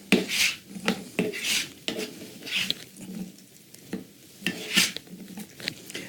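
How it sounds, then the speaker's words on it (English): Beans being stirred and folded into a vegetable sauce in a pot, with repeated scraping and wet swishing strokes of a spoon at an irregular pace, close and fairly quiet with short pauses between strokes. "So now we'll go ahead and add the beans. We'll stir these in."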